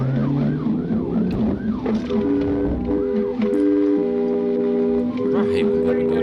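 A police car's wailing siren sweeps up and down during a high-speed chase, then shifts to steady overlapping electronic tones, loud and close over traffic rumble.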